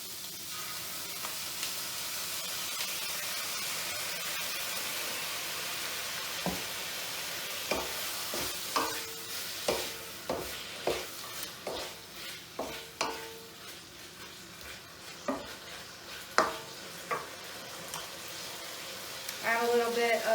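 Shrimp stir fry sizzling steadily in a hot pan as Thai chili sauce and soy sauce go in, with a constant hiss, scattered crackles and pops, and a utensil occasionally stirring nearby.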